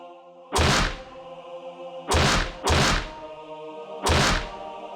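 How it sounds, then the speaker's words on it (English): Four heavy, hollow metallic thunks of a metal fence being kicked in the video game Higurashi, loud and close with a couple of hits in quick succession. "So please don't kick the metal fence"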